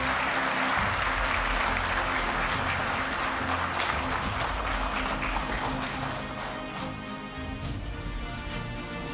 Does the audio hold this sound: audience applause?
yes